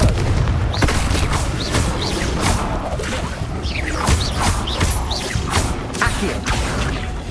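Blasting spells in Hogwarts Legacy produce a dense, continuous barrage of loud booms and crashing impacts, with crackling debris and whistling streaks over a heavy rumble.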